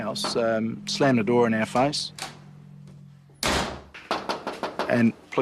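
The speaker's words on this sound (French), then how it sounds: "le propriétaire nous a violemment claqué la porte au nez" A homeowner violently slams a house door shut, giving a single loud, sharp bang between stretches of narration.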